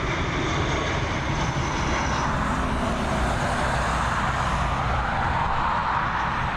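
Lauda jet aircraft landing at Dublin Airport, a continuous loud engine roar with a faint whine fading early on, steady and fairly close with no talk.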